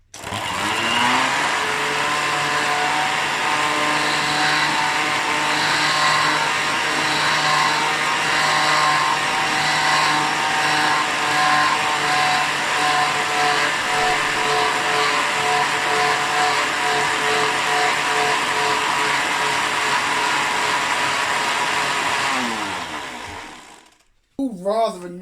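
A rare Hotpoint Light&Easy vacuum cleaner motor, fitted with replacement parts, struggles to run, giving a steady, loud, buzzing whine with a constant pitch for about 23 seconds before cutting out abruptly.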